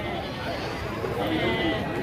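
Sheep bleat in a busy Gangadhara livestock market in Karimnagar, Telangana, a few calls rising over steady crowd chatter and nearby voices.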